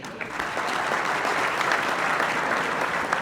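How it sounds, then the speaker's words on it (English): Audience at a mayor's prayer breakfast applauding, a dense steady wash of many hands clapping at once, loud and sustained throughout without a break. "Big round of applause for all of those folks."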